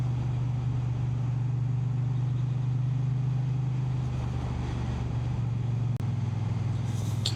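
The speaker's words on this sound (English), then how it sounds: "The roar of the engine." A Triumph Bonneville T100 motorcycle engine holds a steady, loud, low drone close by, never pausing, with a brief click near the end.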